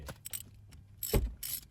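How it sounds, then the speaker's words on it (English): A brake caliper piston press taken off during front brake work on a 2017 Hyundai Santa Fe XL, heard as a few short metallic clanks and clicks up close. "I'm gonna take off the press"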